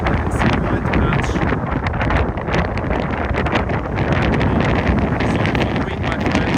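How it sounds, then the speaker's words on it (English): Strong wind buffeting a microphone outdoors in downtown Lisbon, Portugal, just before rain, a loud continuous roar and rumble throughout. "Wow, the wind is quite strong."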